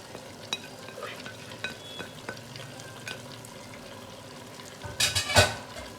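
Beef with ginger, garlic and kunna masala fries in a pot, a steady low sizzle broken by scattered stirring scrapes and a louder clatter of stirring near the end.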